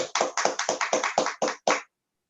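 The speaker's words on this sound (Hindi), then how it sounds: "फ्रेंड्स, जोरदार जूम तालियों के साथ उनका हम वेलकम करेंगे।" Hand claps of online meeting participants welcoming guests on a Zoom call, a quick run of about ten sharp, close claps at a steady rhythm that stops abruptly, with no talk over them.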